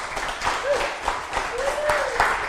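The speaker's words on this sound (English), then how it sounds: "Didn't expect him to get quite so much applause" Audience applause greets a cosplayer dressed as the Governor, moderate clapping mixed with whoops and cheers from a nearby crowd.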